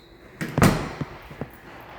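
A small pantry door in a house kitchen shuts close by with one solid thud, followed by a couple of lighter clicks, and no one talks.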